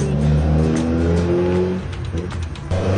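Historic rally cars on the Monte-Carlo Historique route through Bar-sur-Aube pass close by, engines loud and revving, one roaring past and fading before another approaches.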